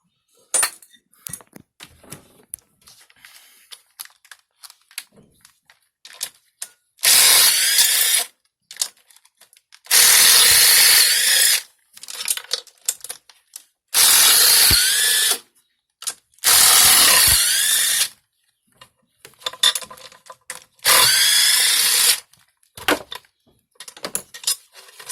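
Ratchet wrench cranking out bolts during a spark plug change on a Cadillac CTS 2.8L/3.6L V6, heard as several loud, close bursts of rapid clicking separated by quieter handling clatter.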